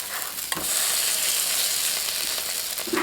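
Chive-filled pies sizzle steadily in an oiled, covered pan just after being flipped, a loud continuous frying hiss with a brief clatter near the start and no talking.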